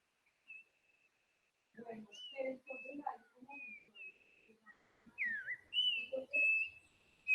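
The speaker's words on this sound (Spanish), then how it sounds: "este es típico de las montañas antioqueñas, es el turpial dorso amarillo" Yellow-backed oriole from the Antioquia mountains singing clear, fluting whistled phrases that come and go, with some lower mumbling sounds between them, faint and fairly distant.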